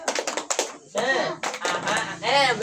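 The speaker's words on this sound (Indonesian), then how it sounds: "Perhatikan, tepuk semangat." Children's 'tepuk semangat' spirit clap, a quick rhythmic series of sharp hand claps near the mic, mixed in with a voice talking between and over the beats.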